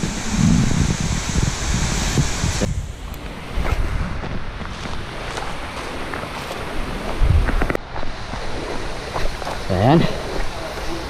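Lesbeng waterfall in Ansipsip, Nueva Vizcaya, Philippines, roars steadily with gusts of wind buffeting the microphone, while people talk over the rushing water.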